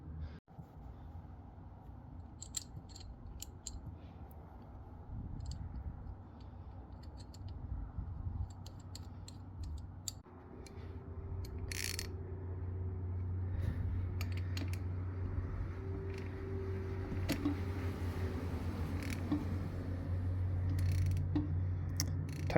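Tightening a part on a 400cc two-stroke engine by hand, with scattered creaks, small ratcheting clicks and tool contact against the metal over a steady low hum that grows slightly louder midway, close and fairly faint.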